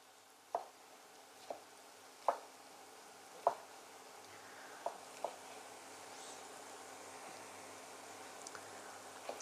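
Knife chopping a whole lemon on a cutting board in a home kitchen, a handful of sharp, separate cuts at an uneven pace over a quiet background, with a few faint clicks near the end.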